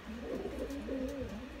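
Racing pigeons cooing, a soft low burbling coo rolling continuously, close by against faint background noise.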